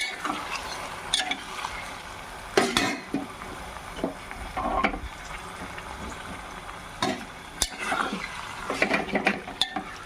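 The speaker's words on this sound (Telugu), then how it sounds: "మటన్ వేసుకొని ఒక్కసారి తిప్పుకుందాం." Mutton stirred into softened onions in a pot sizzles and fries, with scraping spoon strokes and metallic clanks against the pot at irregular intervals over a steady crackle, close and without talk.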